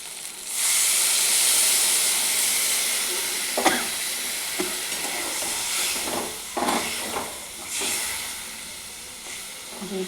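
Water hits a hot pan of frying potatoes, bursting into a loud steamy hiss that gradually settles into bubbling sizzle with intermittent pops and spatters.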